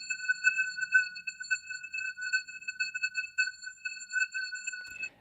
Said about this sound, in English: let's have a listen to the actual resonances that we're getting rid of